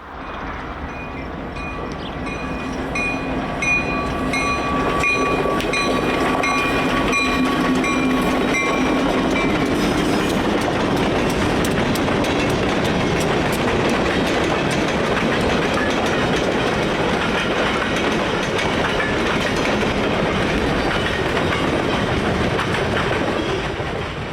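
Union Pacific freight train of the Alturas Local rolling past on the Modoc Line near the California–Oregon state line, a loud, steady rumble with continuous wheel clatter and rail noise filling the whole span, no voices.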